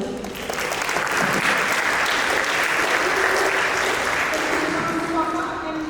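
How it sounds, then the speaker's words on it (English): Audience applause welcoming a speaker at a seminar, a sustained, even wash of many people clapping at steady volume, with faint voices underneath. "let's give a big round of applause to Miss Galuh."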